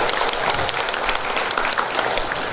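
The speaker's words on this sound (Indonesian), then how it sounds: "Boleh berikan tepuk tangan." Sustained audience applause at an indoor health talk show, a dense steady wash of many hands clapping throughout, loud and continuous.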